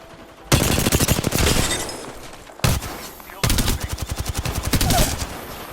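Rapid bursts of gunfire from a shooter video game, one long run of automatic shots, a brief pause, then another dense sustained volley, loud and close.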